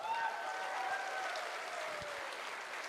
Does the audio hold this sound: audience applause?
yes